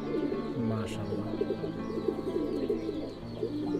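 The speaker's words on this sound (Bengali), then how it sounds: "অনেক শক্তিশালী কবুতর" Strong fighter pigeons coo steadily and close by in a loft, their low rolling calls layered continuously throughout, with a faint murmur of human voice in the background.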